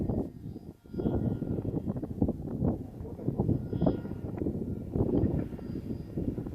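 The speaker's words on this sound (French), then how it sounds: "c'est pas évident de manipuler un tel avion par ce vent." An FMS Piper Cub PA-18 radio-controlled model plane flying in strong wind, its small engine droning at a distance while heavy gusts buffet the microphone throughout.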